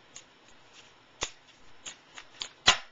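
A deck of playing cards being shuffled by hand during a reading, with soft riffling and several sharp snaps, the loudest near the end, in a quiet room.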